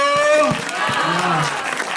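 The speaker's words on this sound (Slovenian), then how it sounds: "Let's give him a round of applause. Aplavz." A congregation applauds during a Catholic mass in Kurešček, Slovenia, with clapping mixed with voices and loud cheering over a brief, fairly close burst.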